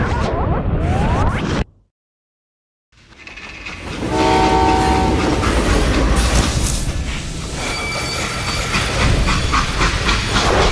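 A steam train from the Call of Juarez Gunslinger game rumbles along with a loud, continuous roar and hiss, broken briefly by a short silence before the heavy rolling noise returns and holds steady.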